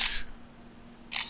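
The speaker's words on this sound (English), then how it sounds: "On the Z10, just hear the noise, and on the iPhone 5 just look for the actual shutter capture." A BlackBerry Z10 phone camera plays its shutter sound, two crisp, bright clicks about a second apart, close and clear against near silence.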